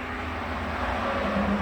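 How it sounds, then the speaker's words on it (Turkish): A continuous low rumble of road traffic near a main road, with a car engine growing slightly louder as it passes, no voices. "Dışarıda olduğum için ve ana yola yakın olduğum için dışarıda araba sesleri falan da duyuyorsunuzdur"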